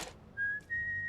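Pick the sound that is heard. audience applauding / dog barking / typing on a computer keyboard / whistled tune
whistled tune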